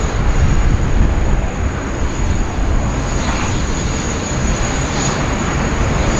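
An Emirates SkyCargo freighter arriving at Sydney Airport from Dubai via Singapore gives a loud, steady jet roar, with wind buffeting the microphone.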